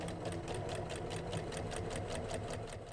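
Domestic sewing machine stitching a quarter-inch quilting seam with a regular straight stitch, giving a fast, even, rhythmic chatter of needle strokes over a motor whir, close up and steady throughout.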